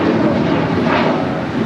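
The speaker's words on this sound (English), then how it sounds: "our next departure is Alaska Airlines Flight 6 heading to Reagan National. It's 737-800." Alaska Airlines Boeing 737-800 departing runway 25 right at Los Angeles International Airport, heard as a loud, steady jet engine roar with broad rushing noise and no breaks.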